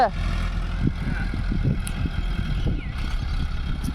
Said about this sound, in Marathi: पेरणीला सुरुवात होती आणि याच्यात ट्रॅक्टर फसून गेलेलं आहे